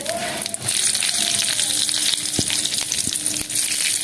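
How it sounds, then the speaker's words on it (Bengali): Bengali five-spice and dried red chillies sizzle in hot oil for a tengra fish curry, a steady loud frying hiss with a few sharp clinks and taps of a utensil against the pan. "আমি ফোড়ন দিচ্ছি, শুকনো লঙ্কা দিচ্ছি"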